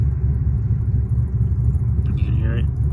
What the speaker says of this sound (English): that Firebird right there is a pretty nice little build there too, and sounds really mean too